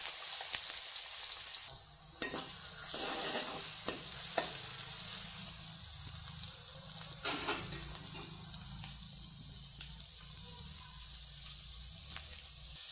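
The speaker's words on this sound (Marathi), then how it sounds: "आता बारीक चिरलेला कांदा टाकते।" Finely chopped onion dropped into hot oil already holding cumin seeds and a pinch of asafoetida for a traditional urad dal amti, a loud steady sizzle with a few stirring scrapes, close by and without talk.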